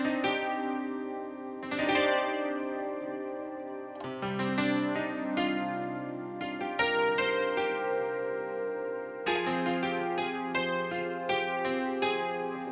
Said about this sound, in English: the MIDI piano is just a very synthesized, overprocessed piano that was popular in the 90s